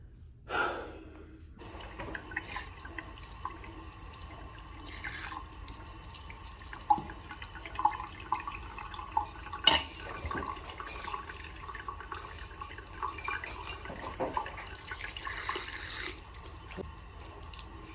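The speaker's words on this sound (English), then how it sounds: "Let me throw some water on this, and hopefully I don't get water over my god doggone shirt." A restroom sink faucet runs in a steady, close hiss of splashing water for the whole stretch, with a few soft breaths and small knocks mixed in.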